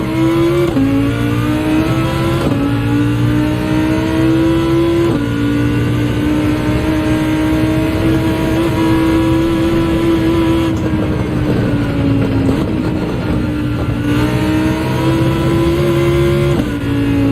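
Race car engine in Gran Turismo 7, loud and continuous, repeatedly revving up and dropping back as it shifts through gears, with no talk over it.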